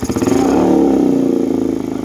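A faulty Bajaj NS200 motorcycle engine runs close by with a rapid, even ticking clatter riding over a loud idle rumble, alone without voices.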